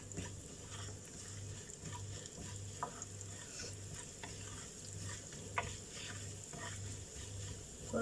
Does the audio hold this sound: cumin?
yes